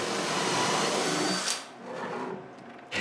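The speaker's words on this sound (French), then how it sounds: "Je commence par utiliser mon gabarit à goujonner que j'ai fait et je perce des trous" A power drill bores dowel holes in wood through a homemade doweling jig, giving a loud, close whirring burst that stops, then a quieter trailing run and a final short rev.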